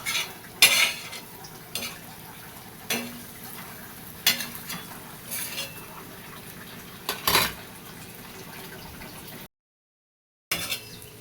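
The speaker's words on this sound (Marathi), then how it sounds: "आलटून पालटून आलटून पालटून खालीवर खालीवर करून घ्यायचं एक जीव करायचं ह्याला" Egg bhurji being stirred and turned in a pan, with a spoon scraping and clinking against the metal in irregular strokes over a faint sizzle, close and moderately loud, then a brief silent gap.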